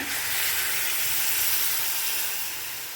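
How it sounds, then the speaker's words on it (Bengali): Water with soaked paneer being poured into masala frying in a home kitchen pan, giving a steady broad sizzle and steamy hiss that stays loud and close throughout, easing slightly toward the end. "পনিরটা যে জলে ভেজানো ছিল সেই জল সমেতই আমি ঢেলে দিচ্ছি"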